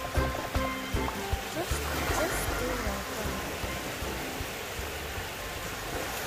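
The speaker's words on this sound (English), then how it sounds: "Look at the beautiful waves." Waves wash and roll continuously onto Indian Rock Beach in a broad, noisy surge, with a few soft knocks early on; no talking.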